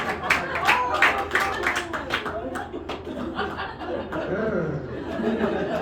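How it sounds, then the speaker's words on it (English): A small audience at a magic show breaks into scattered clapping and chuckling, several sharp claps close together at first, then a looser mix of laughter and murmurs as someone talks over it. "Give them both a big round of applause."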